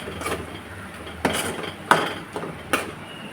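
Beetroot masala with coconut paste is stirred in a pan, giving four or five scraping knocks of a spoon against the pan over a low background hiss.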